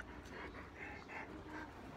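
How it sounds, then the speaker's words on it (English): A dog pants quietly in rhythmic, breathy puffs for about two seconds, soft and close, with faint whimpery tones. "Oh, look at my doggy."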